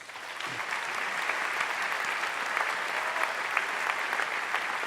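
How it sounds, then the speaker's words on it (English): A graduation ceremony audience claps steadily, a dense, even wash of applause from a large crowd that keeps up for several seconds without pause. "Please give them a round of applause."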